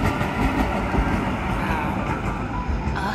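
A Budapest tram passes along a city street, a steady low rumble with faint rail clatter that stays close and even throughout, with a hint of voices in the background.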